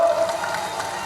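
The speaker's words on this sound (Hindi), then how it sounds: "ताली बजाइए गीता जी के लिए। अरे महिलाओं जरा जोर से ताली बजाओ।" Crowd at an Amit Shah political rally in Rajnandgaon clapping as local leaders are introduced, a steady, fairly loud patter of many hands filling the whole short stretch.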